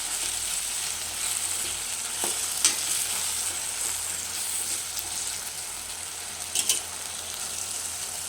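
Fresh garden sorrel leaves (chukka kura) sizzle and fry steadily in a pan, with a constant bright hiss and occasional stirring clinks and scrapes.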